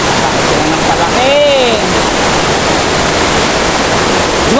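Floodwater current rushing steadily in a broad, continuous roar, with a voice calling briefly in the middle amid the flow where tilapia gather at the edges.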